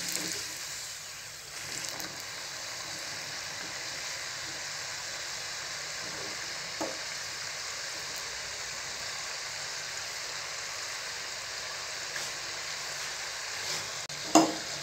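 Jackfruit seed bondas deep fry in oil with a steady, even bubbling hiss that runs throughout, close and moderately loud, with a couple of faint clicks.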